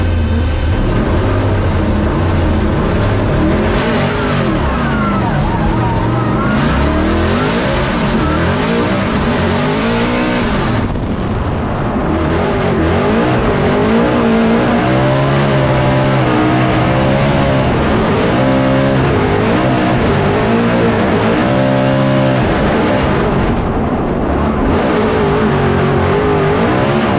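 A 2024 Ford Mustang RTR drifting in a Formula Drift competition, its engine roaring loud and continuous with rising and falling revs, layered with tire squeal and skidding over the whole stretch and no talk.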